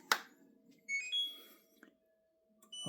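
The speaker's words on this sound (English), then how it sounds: "you get that EI arrow, and you hear the beeping" An LG dishwasher showing an error code gives short electronic beeps, a few faint chirps scattered among clicks and handling noise close by.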